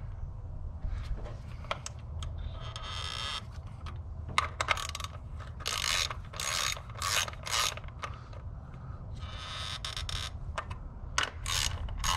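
A hand ratchet tightens the coil pack bolts on a Fiat 124 Spider, with clusters of quick, close metallic clicking strokes broken by short pauses, heard alone.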